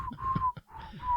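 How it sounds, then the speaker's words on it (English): A person whistles a tune into a live chat microphone: short, clear, near, steady notes that break briefly in the middle, with no talking. "Who is whistling a song?"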